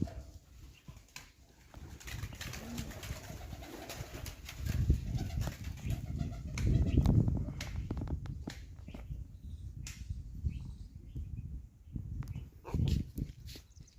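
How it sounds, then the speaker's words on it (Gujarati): Domestic pigeons kept loose in a large open dovecote, cooing and fluttering nearby with soft rustles and scattered wing claps, a continuous low murmur without talk. "જો અહીંયા કબૂતર ઘણા છે"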